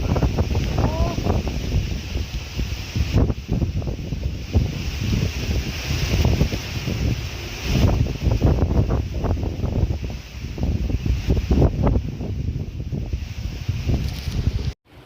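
Strong stormy wind blows over a pond under a cloudy sky, buffeting the microphone in loud, rumbling gusts that rise and fall without pause.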